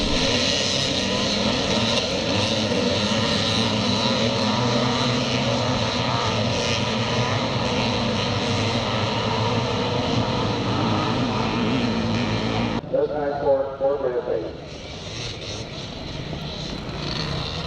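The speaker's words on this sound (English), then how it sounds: "It looks like Ryan Thompson on the YZ Yamaha has taken the lead as they make the turn to head up the Pearson Hill." Yamaha YZ motocross bikes race up a hill at a charity scramble in Northern Ireland, their loud, sustained engine roar running continuously near and steady, with a brief shift in tone toward the end.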